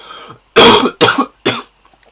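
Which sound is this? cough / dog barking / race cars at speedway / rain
cough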